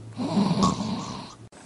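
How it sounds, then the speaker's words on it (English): A man snores once, a single drawn-out nasal breath lasting just over a second, close and fairly quiet. "Percy decided to rest for a little bit after that burst of speed when he heard someone snoring."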